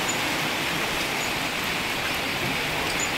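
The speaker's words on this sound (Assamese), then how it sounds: "এয়া বৰষুণ আহি আছে" Rain falls steadily on a jungle resort in Papum Pare, Arunachal Pradesh, making a constant, even wash of noise at moderate level. It has no distinct drops or breaks and no voices.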